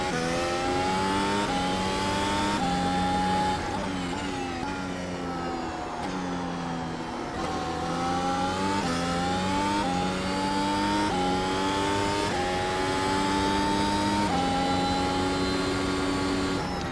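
Mercedes W12 F1 car in iRacing accelerating through repeated upshifts, its high engine whine rising and dropping in a steady pattern of gear changes, loud and continuous throughout with no talk.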